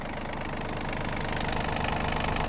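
A Yanmar RS-27 Japanese mini tractor's 27-horsepower, 1.5-litre engine idles steadily up close, a loud, even low rumble with a rapid knocking pulse and no voices.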